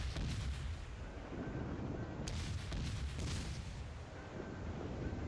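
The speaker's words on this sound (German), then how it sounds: "Oh, die schießen auf mich." Naval artillery fire in the World of Warships naval battle game: a continuous loud barrage of booming gunfire with dense rumbling low end, a couple of sharper volleys standing out midway.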